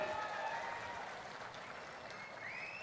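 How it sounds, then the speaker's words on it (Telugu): A crowd at a public meeting in Udayagiri clapping, a steady wash of applause that stays even throughout and sounds somewhat distant. "ప్రజల తరపున మీరు కూడా గట్టిగా చప్పట్లు కూడా చెప్పండి"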